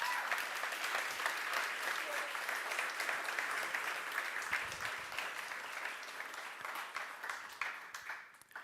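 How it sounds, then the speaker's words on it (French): An audience applauds continuously for several seconds with dense, even clapping that slowly thins toward the end, and there is a faint voice underneath. "Vous pouvez l'applaudir."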